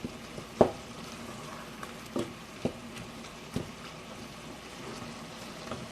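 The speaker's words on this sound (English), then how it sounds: "Break up the meat as you cook." Ground meat for lasagna frying in a pan as it is broken up, a soft steady sizzle with a few sharp scrapes and knocks from a utensil, fairly quiet and close.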